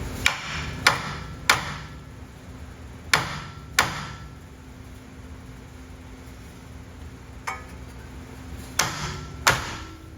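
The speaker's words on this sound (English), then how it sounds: "I got a pretty heavy hammer. I'm just going to tap it" Heavy hammer blows strike the front suspension of a 1970 Chevelle SS 454 in irregular bursts, a few sharp hits clustered together, then a pause before more, close and loud.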